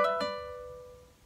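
A guitar sounds a hammer-on with the little finger followed by a slur in a Peruvian waltz lesson: two quick plucked notes with strong harmonics ring out close and clear, then decay alone into silence.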